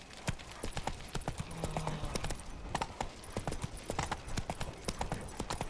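Horse hooves clip-clopping at a steady trotting rhythm in the video game The Witcher 3, loud and close with sharp repeated hoofbeats, with a brief faint whinny-like tone early on.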